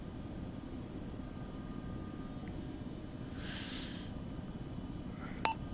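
A Merlin helicopter in ArmA 3 makes a low, steady rotor and engine drone that holds level the whole time. A short electronic beep and a click cut through near the end.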